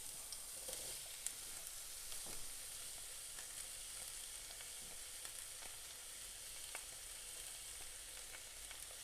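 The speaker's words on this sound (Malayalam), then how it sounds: "എന്നിട്ട് എണ്ണ ചൂടായി കഴിയുമ്പം കുറച്ച് 2 ബേ ലീഫ്, കുറച്ച് കറിവേപ്പില, ഉള്ളി," Bay leaves, curry leaves and onion frying in hot oil, giving a steady, fairly quiet sizzle with faint crackles and small pops throughout, and no voices.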